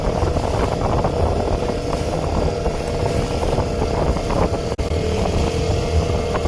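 A motorboat engine drones loudly and continuously while crossing choppy, windy lake water, with wind roar and hull slap mixed into a steady, close, unbroken rumble.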